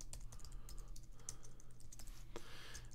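Keystrokes on a computer keyboard as code for a Corona SDK database function is entered, a fast irregular patter of close, crisp clicks over a low steady hum, with no voices.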